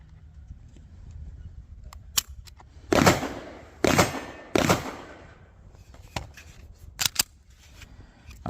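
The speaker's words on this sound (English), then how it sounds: "I heard the click while it was in the 4-pound range" A Taurus GX2 9mm subcompact pistol's trigger is worked during a weight test, giving several sharp, close mechanical clicks and snaps scattered among quieter handling noises.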